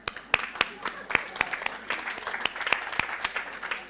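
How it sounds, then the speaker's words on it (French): Church congregation at a prayer service clapping, a moderately sized crowd with a few sharp individual claps standing out near the front, with some voices underneath. "On l'applaudit."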